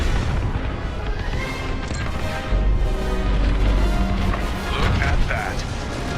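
A massive core detonation in the space combat game Star Wars: Squadrons rolls out as a deep, sustained explosive rumble with crackling debris and mechanical noise, while voices talk over it.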